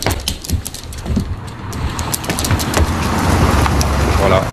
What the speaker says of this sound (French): Il y a un camion de glace qui est passé